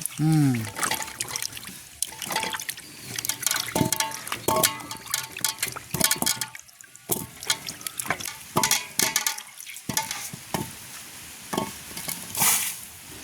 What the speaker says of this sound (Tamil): நல்ல வடிவாக ரெண்டு மூணு தடவை கழுவி எடுக்கும்